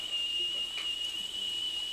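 A tea kettle whistles with a steady, piercing high tone that holds unbroken through the whole stretch, with no talk over it.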